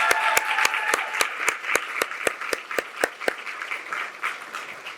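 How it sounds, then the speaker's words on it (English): An audience in a Louisville, Kentucky room gives a round of applause for a morning presenter: a dense, steady wash of many hands clapping, with sharp individual claps standing out in a regular rhythm, fading slightly toward the end. "Let's give a great round of applause to Maggie Harlow this morning."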